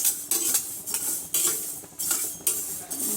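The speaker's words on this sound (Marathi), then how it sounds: "ड्राय रोस्ट करून घ्यायचा आपण हे मसाला." Pickle spice masala dry roasting in a pan over a low flame, with repeated scraping and stirring strokes of a metal spoon against the pan in an uneven rhythm, close and moderately loud with no talking.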